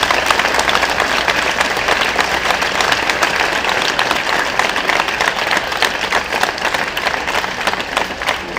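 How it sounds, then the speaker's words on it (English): A crowd at the Electrek FSGP 2024 solar car challenge awards ceremony applauds loudly and steadily, a dense wash of many hands clapping that holds for the full stretch without talk. "let's give them a round of applause"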